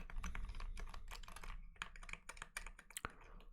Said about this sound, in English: spacebar is a pretty cool keyboard key